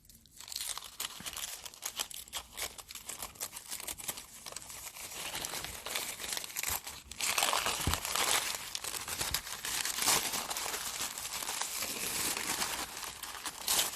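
A wrapped gift package is torn open by hand, its string already removed, with continuous loud crinkling and ripping of paper that grows denser and more energetic partway through.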